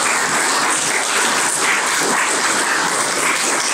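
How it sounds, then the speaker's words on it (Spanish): A church congregation claps loudly and continuously for Jesus during a Spanish-language sermon on inner healing, a dense, even wash of many hands with no voice over it. "Denle un aplauso a Jesús."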